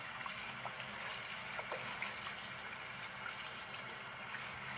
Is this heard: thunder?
no